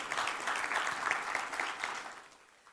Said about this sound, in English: Give Josiah a warm hand of applause.